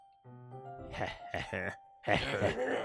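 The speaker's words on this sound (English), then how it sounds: "It sounds like breathing. A sharp inhale, like someone is sucking the air through their teeth." A sharp, strained inhale drawn through the teeth, heard as an eerie breathing noise in the Doki Doki Literature Club Plus video game, rising in two close, raspy pulses that stand alone without talk.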